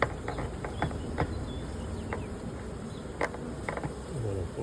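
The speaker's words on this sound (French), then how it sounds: "il y aura encore des abeilles qui tourneront quand même" A swarm of honeybees hums steadily outdoors in a supermarket parking lot, a continuous faint buzzing with individual bees flying close past.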